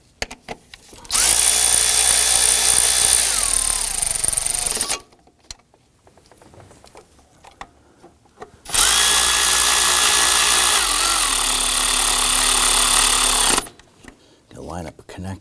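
Power tool snugging down intake manifold bolts on a 2015-2020 Ford F-150 2.7L V6, two loud sustained whirring runs of several seconds each, the pitch dipping as the bolts tighten, with a quiet pause and small clatter between.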